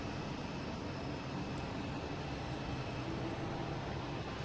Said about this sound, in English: next coming in we have a Cessna Citation Latitude coming in from Bedford